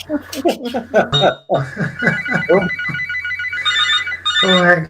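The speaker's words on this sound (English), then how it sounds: "Sorry, that's my phone." A phone ringtone plays loudly and close, repeating its melodic pattern several times, with a person chuckling over it.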